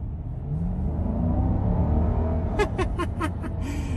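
A 2022 Jeep Grand Cherokee V8 with an 8-speed automatic accelerates, a deep steady engine rumble heard from inside the cabin building in intensity, with several sharp clicks toward the end.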